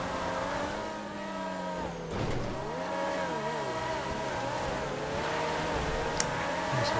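A powerful all-wheel-drive car engine in GTA 5 labours steadily uphill toward Mount Chiliad, a sustained droning rev with shifting pitch and a brief dip around two seconds, loud and continuous without talk.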